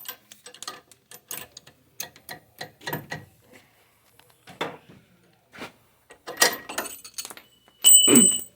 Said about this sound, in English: We gotta put a wrench on it.